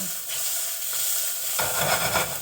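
Blue oyster mushrooms sizzle steadily in a hot pan, a dense close crackle that swells louder and brighter in the second half, with no talking.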